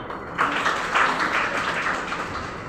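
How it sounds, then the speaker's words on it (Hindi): A personality development class gives a short round of applause, a moderate group clapping with a soft rhythmic pulse heard fairly close, rising suddenly and holding steady. "इसलिए इसके लिए तालियां।"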